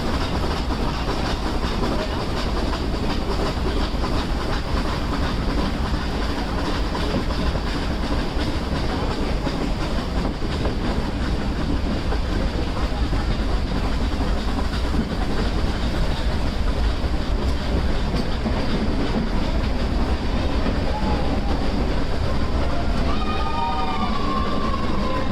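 Nilgiri Mountain Railway toy train running near Ooty, a steady rumbling roll with clattering wheels that continues unbroken, loud and close, with no talking.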